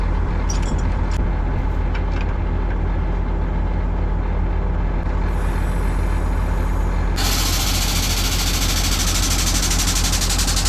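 Compressed air from a 6x6 military wrecker truck is released into an air hose, starting as an idling engine rumble and then breaking into a loud, sustained broadband hiss partway through, close to the microphone.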